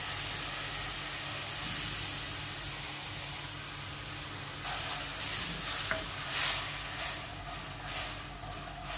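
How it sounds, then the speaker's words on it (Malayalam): Jaggery melts in a little water in a pan over heat, a steady hissing simmer nearby, with a few spoon scrapes and bubbling stirs toward the end. "ശർക്കര ഉരുക്കിയെടുക്കാനായിട്ട് ഞാൻ കുറച്ച് വെള്ളം ഒഴിക്കുന്നുണ്ട്"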